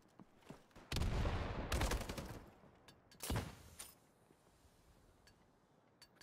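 Gunfire in a competitive first-person shooter match on the Derailed map: a dense burst of rapid shots, then a shorter second volley, with scattered single cracks and quieter mechanical clicks in between.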